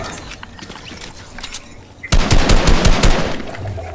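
Rapid bursts of gunfire from the Fortnite video game erupt loudly about halfway through, a dense rattling volley of repeated shots following a quieter stretch of background game sound.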